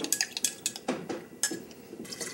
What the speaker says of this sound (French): Et ensuite, on va verser le mélange dans le vin.